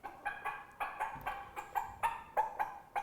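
Chickens cluck in a steady run of short, evenly spaced calls, about a dozen pulses in quick rhythm, close and moderately loud with no talking.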